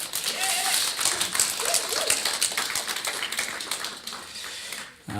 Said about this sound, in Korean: 성가대 격려의 박수 한번 보내주시기 바랍니다.